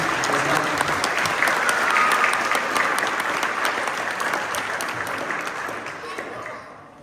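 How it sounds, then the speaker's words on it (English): A crowd of parents, players and guests at a school volleyball spring awards event claps in a long, dense round of applause, loud at first and slowly thinning and fading over about seven seconds. "can everybody give a round of applause for our parents?"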